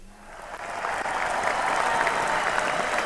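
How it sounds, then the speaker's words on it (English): Applause from an audience in a sports broadcast studio, rising from a quiet start into a steady wash of clapping that carries on evenly for a few seconds. "Big round of applause for them"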